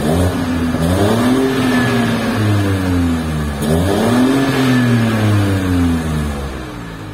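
BMW X1 M Sport engine revving with a rumbly, gurgly exhaust note, two rising and falling sweeps of loud, close engine sound with no talking.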